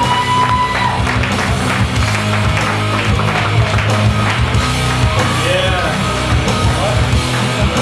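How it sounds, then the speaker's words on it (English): Audience applause and cheering for a comedian at a live stand-up show, a steady dense wash of clapping from a crowd filling the whole stretch at even loudness. "A huge round of applause for the patriotic John Bassett."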